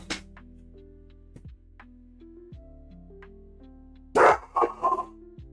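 A dog lets out a few loud, close barks in quick succession near the end, after a stretch of quiet steady electronic tones.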